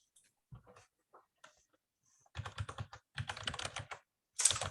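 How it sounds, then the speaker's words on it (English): Typing on a Kinesis mechanical keyboard, picked up by a microphone mounted beside the switches, a few sparse clicks at first, then dense rapid clacking runs in close, crisp bursts. "Clickety clack, mechanic. Kinesis."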